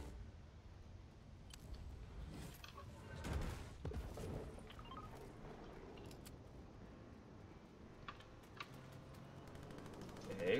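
Scattered Fortnite gunfire crackles at a distance, faint bursts of shots spread through the clip over a low background, with a couple of louder pops near the middle and end.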